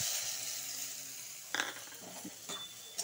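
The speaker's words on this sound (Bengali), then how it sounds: "ভুগ চালটা ঢেলে দিব" Bhog rice poured into hot ghee in a heated kadai, starting with a quiet, steady sizzle, followed by a few scraping and clinking sounds of stirring near the pan, no speech.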